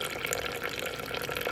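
Water runs steadily with a hissing, splashing flow as a SimPure countertop reverse osmosis dispenser fills, close and continuous.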